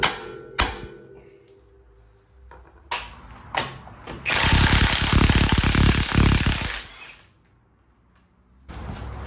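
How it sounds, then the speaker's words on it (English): A hammer strikes the lower control arm of an off-road 1997–2001 Honda CR-V (RD1): several sharp, loud metallic knocks spaced apart, followed by a sustained harsh rattling, grinding noise lasting a few seconds, then quiet. "I hit the side of this lower control arm with my hammer, and it pops this out"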